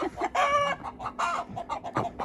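Rooster clucks in a short burst of bright, rasping calls with a farmyard hum in the background, close and moderately loud.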